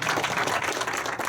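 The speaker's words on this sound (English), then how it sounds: "she deserves a bigger clap than it" Audience applause at a religious leaders' prayer breakfast honoring a chief justice, steady dense clapping filling the whole moment at moderate loudness, with no talk over it.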